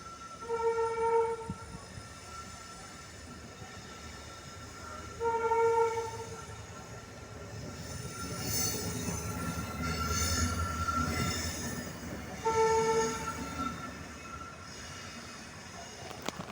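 A lone railway engine runs through a level crossing at Chinnakada in Kollam, with no carriages behind it. Its horn sounds three times, and a rolling rumble swells in between as it passes close by.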